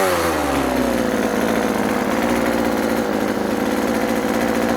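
A vintage Husqvarna 41 chainsaw with running problems runs loud and close with a dense, buzzing two-stroke drone. Its pitch rises slightly at the start and then holds steady with no voices.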